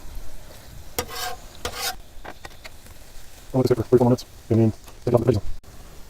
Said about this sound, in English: We're just going to mix it up.